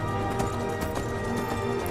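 Hoofbeats of a horse galloping under a rider in the video game Skyrim, a steady quick rhythm of thuds over a constant layer of game ambience and music.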